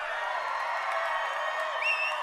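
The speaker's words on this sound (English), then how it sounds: "this is the best, loudest, rowdiest crowd we've ever had for Chris Hemsworth" Large outdoor crowd at Chris Hemsworth's Hollywood Walk of Fame ceremony, a steady roar of cheering and chatter with a couple of whistles near the end.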